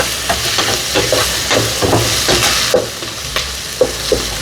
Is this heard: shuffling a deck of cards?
no